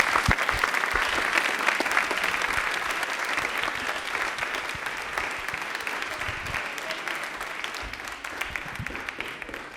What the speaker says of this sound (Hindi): तालियां प्लीज एक बार जोरदार हो जाए इनके लिए।